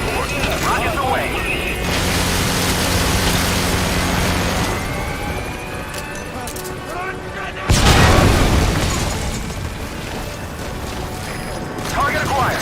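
Rockets launch and explode in the Metal Gear Solid V video game. A sustained mechanical roar builds, then a heavy boom bursts out near the middle and rumbles down, with voices heard over the action.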